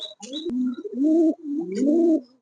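A pair of Chandan pigeons coo in two long, throaty, rolling calls close by, with a few faint chirps at the start and no talking.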